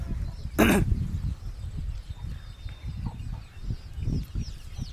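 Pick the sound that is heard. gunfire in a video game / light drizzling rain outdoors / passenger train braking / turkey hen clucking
turkey hen clucking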